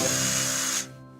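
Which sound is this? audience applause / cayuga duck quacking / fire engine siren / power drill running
power drill running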